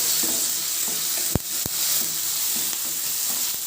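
Onion, curry leaves and tomato fry in a pan, a soft continuous sizzle at close range broken by two sharp clicks of a spoon or pan, with no speech.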